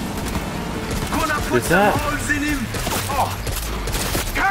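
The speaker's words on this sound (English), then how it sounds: "This assault rifle, I thought it was automatic." An assault rifle firing in Cyberpunk 2077, heard as steady loud gunfire through most of the stretch, dense and continuous under game sounds, while someone talks briefly over it.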